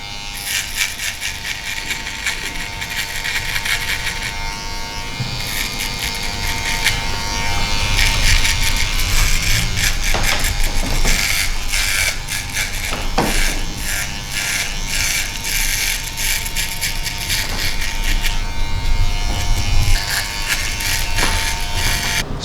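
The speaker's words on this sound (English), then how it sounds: "I'm using the Andy Selector Shaver." An Andis electric shaver buzzes continuously and close up while shaving hair for a mid fade on a comb-over haircut, with a steady high-pitched whine and short rattling bursts as it passes over the head.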